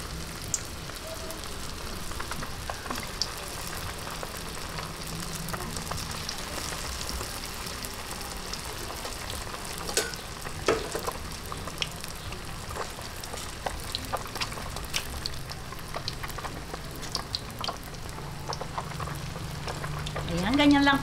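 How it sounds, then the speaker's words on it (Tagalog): Buko turon, coconut and banana spring rolls, frying in hot oil, giving a steady crackling sizzle like light rain that holds nearly constant throughout, with scattered sharper pops and no talking. "Kaya umpisahan na po natin yung pagpiprito."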